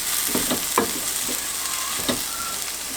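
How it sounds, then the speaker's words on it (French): Flour stirred into a sizzling pepper sauce in a pan, a steady loud frying hiss with occasional scraping stirs throughout. "on ajoute le restant de farine qu'on avait. On va mélanger."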